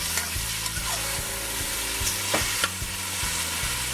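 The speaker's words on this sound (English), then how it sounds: "you want to just stir it, just to get the sugar mixed in with the pigtail" Pigtail being stirred with sugar in a pot for Trinidadian pelau, a continuous close sizzle with repeated scraping and clinking strokes of the spoon against the pot.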